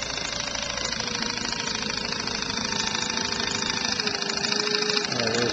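An engine runs on knockoff Chinese fuel injectors at 70 psi fuel pressure, giving a steady, loud, close idle hum with slight irregularity and no talking.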